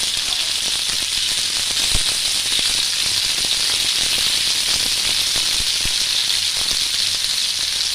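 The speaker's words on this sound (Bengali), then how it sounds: "একটু আলুগুলো ভেজে নেব যাতে কাঁচা গন্ধটা" Small pieces of potato frying in hot oil in a home kitchen, giving a steady, continuous hiss and sizzle with scattered crackles and pops throughout, close and fairly loud.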